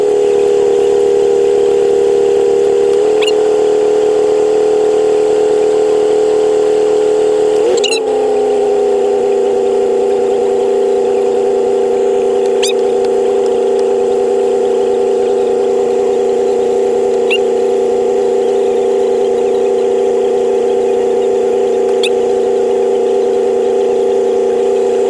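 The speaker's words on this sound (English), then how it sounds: "I'm gonna run it through all its gears for at least 30 seconds." A car engine with a rebuilt transmission runs steadily for the whole stretch in cold weather, a loud constant drone with a brief shift in tone early on as it works through its gears.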